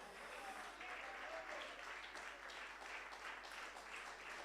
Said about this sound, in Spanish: Den un aplauso de alabanza al Señor.